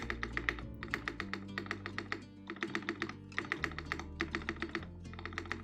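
Fast typing clatters on a Korean mechanical keyboard with a standard spacebar, bursts of crisp close keystrokes separated by brief pauses and the occasional deeper spacebar thock.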